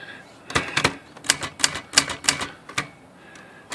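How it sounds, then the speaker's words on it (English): Keys struck on a Remington Rand KMC Standard noiseless typewriter fitted with a new half-inch ribbon, about ten crisp, close clacks in an uneven rhythm over nearly four seconds, with no talking. "Let's see if it types in red."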